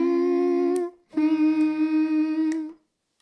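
Two voices humming the lower middle harmony parts of "I'm Not in Love" together, sustained steady notes in two phrases with a brief gap between, close and clear with no talking.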